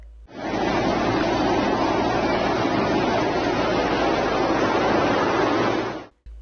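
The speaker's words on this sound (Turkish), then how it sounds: "köylerde dere yataklarında yükselen sular taşkınlara yol açtı" Continuous loud rushing roar of floodwater surging through a village stream bed, a dense, unbroken wash of noise with no voices.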